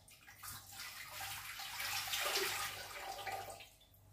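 Tap water gushes into a cooking pot for a Zobo hibiscus drink, a continuous close splashing pour that swells in the middle and tapers off after about four seconds, with no talking.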